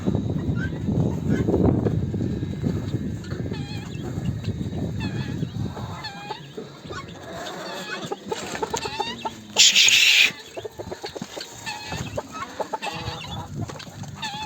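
Young farm chickens let outdoors for the first time at an organic poultry yard, clucking and squawking in a busy chorus, loud and close, with goose-like honks mixed in and one sharp burst partway through.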